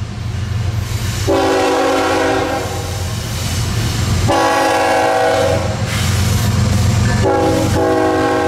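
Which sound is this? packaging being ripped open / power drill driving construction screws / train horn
train horn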